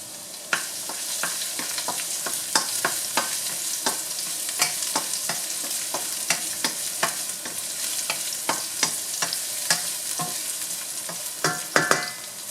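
Garlic sizzling steadily in a hot pan, with frequent scraping clicks from a utensil stirring it throughout; close, loud and continuous, with no talking.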